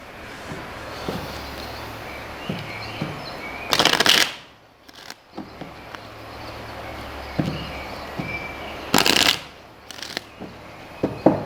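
Kipper fortune-telling cards shuffled close by in a few quick riffling bursts, with two loud flurries and softer taps and handling noises between them, no talking.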